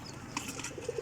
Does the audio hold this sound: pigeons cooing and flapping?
yes